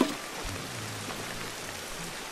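Steady rain falls in the video game Ancestors: The Humankind Odyssey, a continuous soft hiss of drops spattering on surfaces at an even level with no voices.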